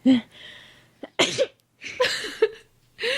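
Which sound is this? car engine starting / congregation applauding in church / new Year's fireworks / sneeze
sneeze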